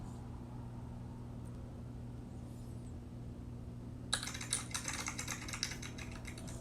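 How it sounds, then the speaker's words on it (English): Decks of cards being shuffled start partway through, a close burst of papery riffling and flicks over a steady low background hum that fills the quiet opening. "gonna play a little bit of music while I shuffle these decks and warm them up"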